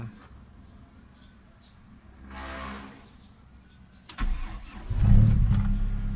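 A Toyota Corolla Big Body with a faulty RPM gauge cranks briefly, then its engine catches and settles into a steady, close idle with a slight rev after a few seconds.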